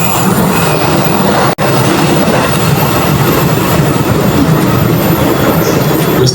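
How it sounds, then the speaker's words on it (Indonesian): A train rumbles past at close range, a loud, steady roar of wheels and rattling cars that holds for the whole stretch, with one split-second dropout near the start. "Mestinya setiap kali kereta api jeger-jeger gitu ya, kita jeger-jeger aja"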